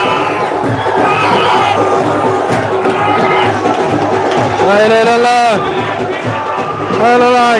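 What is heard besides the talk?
football supporters cheering and applauding in a stadium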